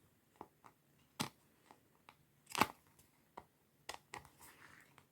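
Scissors snipping away excess crystal-clear plastic from a homemade book cover, a series of sharp, quiet cuts at irregular intervals with soft rustling of the plastic between them.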